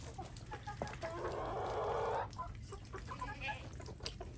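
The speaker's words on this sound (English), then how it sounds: "I gotta take care of the chickens and the ducks real quick first." Backyard hens cluck in short, soft bursts close by, with one longer busy stretch of clucking in the middle, on a quiet farmyard.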